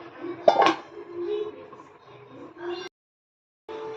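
A metal lid clatters onto a pot of simmering vatha kuzhambu with a sharp clink near the start, followed by softer kitchen clatter and brief talk.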